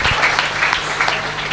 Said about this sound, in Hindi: इसलिए आप लोग तालियां बजाकर प्रभु यीशु को धन्यवाद दीजिए